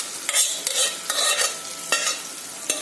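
A spoon stirs boiled, mashed dal into fried masala in a pan, with about half a dozen rhythmic scraping strokes over a soft sizzle.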